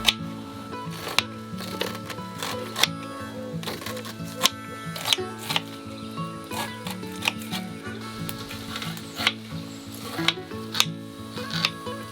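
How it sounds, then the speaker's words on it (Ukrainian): Repeated sharp scraping and clicking strokes of a knife cutting kernels off a corn cob, rhythmic and close, over a steady background hum. "Тепер беремо качани і ножем зрізаємо зерна"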